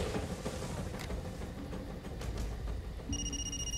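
A phone rings in the video game Far Cry 2 as the character's buddy Frank calls, a steady electronic ringing tone heard over busy in-game background noise.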